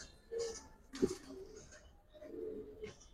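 Giribaz pigeons, one of them a red-marked bird, coo softly nearby in a few short, low, throaty phrases separated by quiet gaps.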